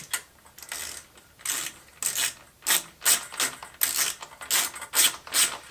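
A ratchet with a T15 bit tightens headlight bolts on a Jeep Wrangler, giving close, crisp bursts of rapid clicking in short repeated strokes with brief pauses between them.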